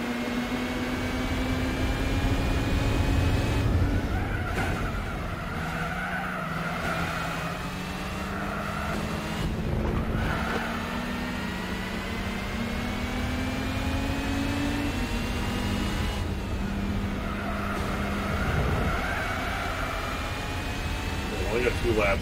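A car engine in the Gran Turismo 4 video game revs high and sustained, its pitch climbing and dropping through gear changes over a steady drone. A voice talks over it.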